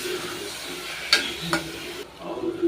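Snake gourd cooking with moong and toor dal in a pan gives a quiet bubbling sizzle, with two short stirring scrapes before it fades.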